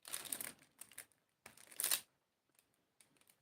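Square diamond painting drills click into place on a canvas, small crisp clicking bursts in close, quiet clusters separated by near silence.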